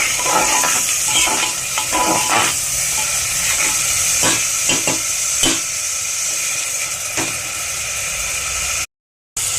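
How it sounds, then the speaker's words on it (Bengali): Onions fry steadily in a pan, a continuous loud sizzle with brief scraping strokes of stirring, ending in sudden silence. "পেঁয়াজগুলো একটু ভেজে নিচ্ছে।"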